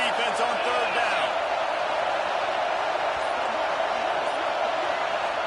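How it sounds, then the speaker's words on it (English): A stadium crowd at an American football game roars steadily on a third-down defensive stand, a loud, sustained wash of cheering and noise with faint thumps. "Decibels rising as the crowd gets behind this defense on third down."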